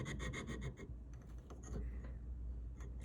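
Hand filing on a metal ring at a shaking workbench gives short, close scraping strokes and light rubbing clatter, fading to quieter scratches toward the end.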